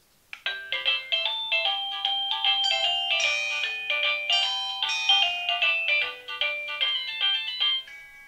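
A smart Wi-Fi wireless camera doorbell plays a bright electronic chime melody, a string of clear ringing notes lasting several seconds with no one speaking.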